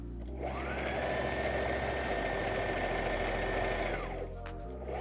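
A sewing machine runs steadily for about four seconds, stitching a folded hem on a fabric protest banner, with a close, loud, even mechanical whir that starts and stops cleanly.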